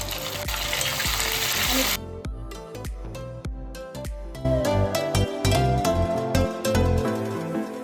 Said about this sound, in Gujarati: આપણું એકદમ સરસ તેલ પણ ગરમ થઈ ગયું છે તો આપણે એડ કરી દઈશું અંદર અને ફ્રાય કરી લઈશું